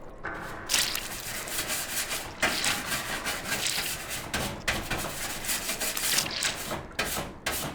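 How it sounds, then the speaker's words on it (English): Vigorous scrubbing to clear crud off a surface and expose an energy socket: repeated rough rubbing strokes in uneven bursts, fairly close, with brief pauses between passes. "There's got to be an energy socket under all this crud. Help me get it cleaned off."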